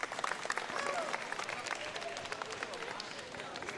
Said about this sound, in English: I want you to give yourselves, actually literally applaud yourself.